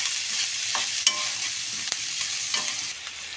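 Spices sizzle and fry in a pan for chicken curry while being stirred steadily, a continuous close hiss with a few sharp scraping clicks of the spoon.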